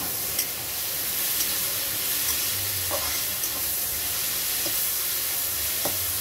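Cabbage and capsicum frying in a pan for a homemade Chinese-style dish crackle with a steady close sizzle, broken by occasional soft stirring scrapes and clicks.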